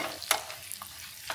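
Dried red chillies fry quietly in hot oil for curd rice tempering, giving a soft, steady sizzle broken by a few brief stirring scrapes.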